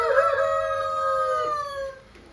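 A rooster among show chickens, Buff Orpingtons and Pekin Cochin bantams, gives one loud, drawn-out crow close by, fading at the end.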